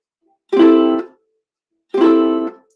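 Two ukulele strums, each ringing briefly before being cut short by a soft percussive mute, separated by a pause.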